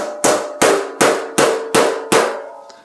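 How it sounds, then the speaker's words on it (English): Six sharp, evenly spaced hammer blows ring out on a metal body panel of a 1932 Ford Brookville roadster, each strike loud and close with a short metallic ring that decays before the next. "you basically start, and you don't hammer the whole thing all the way"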